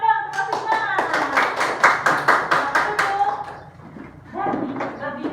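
A small group of schoolchildren in a classroom claps for a classmate named Mas Iman, a burst of quick, close hand claps lasting about three seconds, with a teacher's voice talking before and after.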